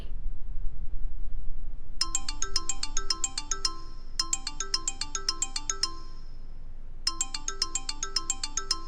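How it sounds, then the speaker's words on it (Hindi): A bright electronic ringtone plays in repeated bursts of quick chiming notes, pausing briefly between phrases, clear and close with no talking. "करणवीर का फोन"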